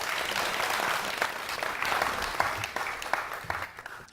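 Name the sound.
audience applauding loudly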